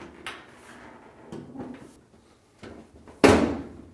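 A GE dryer's metal top panel is lowered and locked into the console tabs: soft bumps and scrapes lead to a single loud, sharp clunk near the end as the panel snaps into place.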